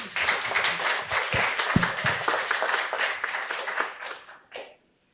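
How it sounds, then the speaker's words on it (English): An audience at a book launch for the novel Tamarin by Priya Hein claps after a reading, with a steady burst of nearby hand claps lasting several seconds before trailing off into a few last claps. "I think we can clap for her."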